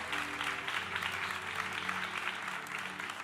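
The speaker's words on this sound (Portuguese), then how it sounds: "você pode aplaudir ao Senhor" A congregation claps for the Lord during an evening church service, a steady, moderately distant roll of applause with faint music or a held tone underneath and no clear speech.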